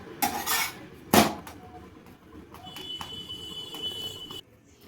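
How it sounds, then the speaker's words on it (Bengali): A metal spatula clinks and scrapes against a griddle while a tandoori-style flatbread is pressed and cooked, two sharp loud strikes early on followed by softer taps and scraping, with a faint steady tone in the background. "আমি দুদিকেই এইভাবে আমি খুন্তি দিয়ে চেপে চেপে ভেজে নেব"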